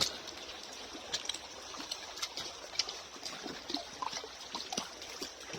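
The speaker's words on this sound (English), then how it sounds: "we're gonna walk up this creek a little bit and check to see if we can find any more trash in it" A small creek trickles and burbles steadily at low level, with faint bird calls and soft cooing in the background and no voices.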